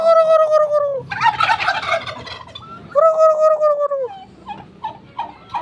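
Turkeys on a small family farm gobble loudly and close, two long rippling gobble calls separated by pauses, with softer bird clucks and chatter between them.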